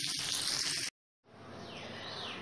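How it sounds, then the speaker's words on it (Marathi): Pomfret fish frying in a pan, a steady bright sizzle running before a brief silent gap and then resuming evenly, close and moderately loud with no talking. "तसेच मी आता दुसऱ्या बाजूने फ्राय करून घेते"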